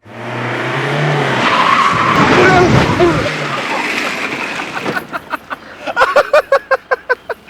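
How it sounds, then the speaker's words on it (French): A car revs hard and skids with tyre squeal during a car pétanque game, loud and close, its roar giving way to a rapid series of sharp rhythmic bursts; excited voices shout over it. "Oh, le bruit de la voiture!"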